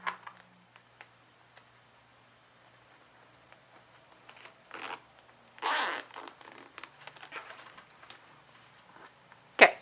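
A zipper on a fabric toiletry bag being pulled in a few short, rasping bursts, close and fairly quiet, with handling noise and a sharper rustle near the end.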